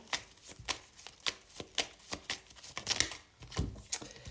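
Tarot cards are shuffled by hand in a quick run of crisp riffling and slapping bursts at close range, about eight to ten strokes in an uneven rhythm.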